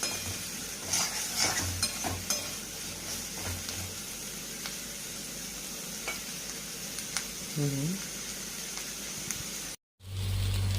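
Onions fry in a pan for a restaurant-style paneer curry with a continuous close sizzle, punctuated by spoon scrapes and occasional clinks against the pan, briefly cut off near the end.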